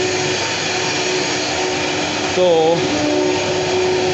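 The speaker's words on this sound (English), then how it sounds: "we have 4 CNC machine running" Four CNC machines run together in a machining shop, giving a steady, loud mechanical whir with a tonal hum, while a voice briefly speaks over it.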